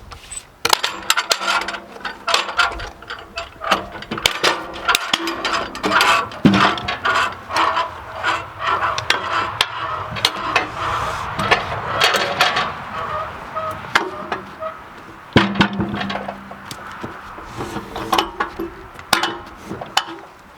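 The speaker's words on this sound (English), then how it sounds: "I'm going to undog it. We'll flip it over." A log is undogged and flipped over on a homemade bandmill, giving a run of irregular wooden knocks, clunks and metallic clanks of the dogs and log shifting, close and fairly loud, with no speech.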